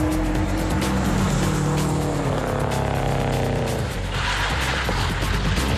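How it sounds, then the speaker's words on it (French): A car drifts through a sliding attempt of about 15 metres in a timed skid contest, with a loud, continuous roar of engine and tyre noise that shifts downward and thins out toward the end. No one talks. "Elle vient de réaliser un dérapage sur une longueur de 15 mètres."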